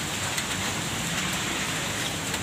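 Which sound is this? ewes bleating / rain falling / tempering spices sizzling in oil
rain falling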